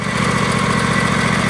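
A riding lawn mower tractor, being readied for resale, runs with its blades engaged. The engine hums steadily and continuously at close range with no talking.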